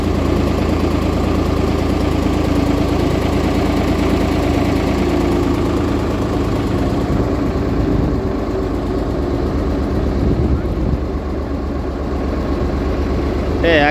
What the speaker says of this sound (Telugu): అంటే యాక్చువల్గా దీన్ని నాటు పడవ అంటాం మనం. అంటే ఒక డీజిలేనా ఇది? పెట్రోలా?